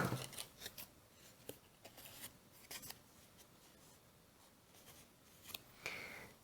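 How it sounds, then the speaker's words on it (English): Scissors snip through paper to trim a Christmas tree pocket page, giving a quiet series of close, crisp cuts at an irregular pace with soft rustling between them and no talking. "what I'm going to do is cut off this extra piece that's hanging out here"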